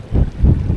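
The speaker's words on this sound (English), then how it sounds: "It's a little bit windy today" Gusty wind buffets the microphone at a wild campsite with low, rumbling bursts that swell and fade over a brief moment, loud and close.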